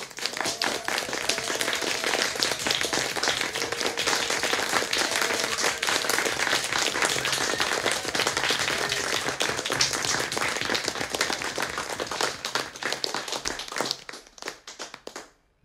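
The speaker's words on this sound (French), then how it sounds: "nous vous applaudissons, chers amis soignantes et soignants" Sustained applause for healthcare workers just after 9 p.m., broadcast during a Compline service: steady dense clapping for about fourteen seconds, then thinning and stopping.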